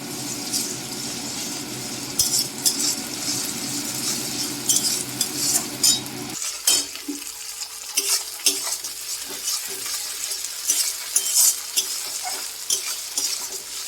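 Ginger, garlic and green chilli paste go into frying onions for a jackfruit and prawn dish. A steady sizzle changes abruptly partway through, then gives way to repeated metal spatula scrapes and clinks against the pan.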